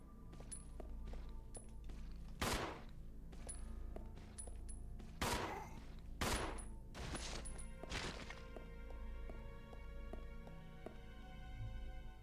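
Gunfire in the survival horror game Resident Evil Zero: several sharp, loud shots spaced a second or two apart, with a few fainter shots and game music and ambience running underneath.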